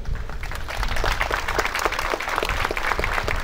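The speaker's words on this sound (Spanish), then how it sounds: "Bueno, un aplauso, Santa Catarina." Applause from a crowd at a patron saint festival in San José de Canos, steady clapping with sharp individual claps standing out over a low background rumble, continuing at an even level throughout.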